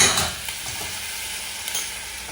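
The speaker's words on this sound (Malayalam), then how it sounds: "നല്ലപോലെ ഇളക്കിയെടുക്കാം" Sliced onion sizzling and frying in a pan while being stirred for ghee rice, a steady close hiss with soft scraping movements throughout, no talking.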